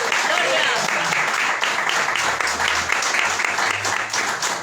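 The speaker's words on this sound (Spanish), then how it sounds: "Den un aplauso al Señor." A church congregation claps loudly and continuously, with voices and cheers mixed into the applause.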